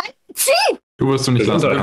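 A single sharp sneeze bursts out during a tabletop role-playing session, loud and close, followed by people speaking German.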